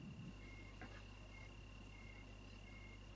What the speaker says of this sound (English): The cricket sound.